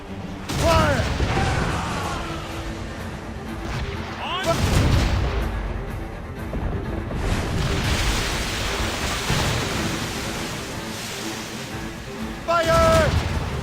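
Ship cannons firing in Assassin's Creed Rogue, heavy booming volleys at several points amid creaking, mechanical battle noise, with crew voices shouting over the action.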